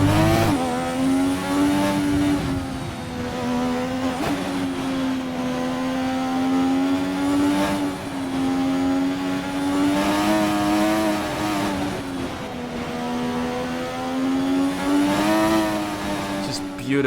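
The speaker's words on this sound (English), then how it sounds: "Beautiful roaring engine," A historic V12 or V10 Formula 1 car roars in F1 2020, its engine wailing continuously and loud, pitch rising and dipping through repeated gear changes and throttle swells.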